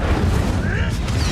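A fire spell, Incendio, is cast in the Hogwarts Legacy video game, giving a dense, rumbling burst of flame that roars loudly and steadily for the whole moment, with game voices mixed in.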